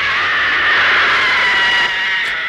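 A woman's scream from a Spanish TV horror program rings out, a loud, sustained shrill cry holding steady for about two seconds before tapering slightly.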